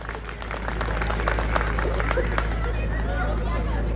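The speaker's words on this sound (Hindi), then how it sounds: "जरा इनके लिए ताली बजाइए।" Audience at a Hindu gathering applauds a man in the crowd, with steady, dense clapping and murmuring throughout, fairly loud and close, easing slightly toward the end.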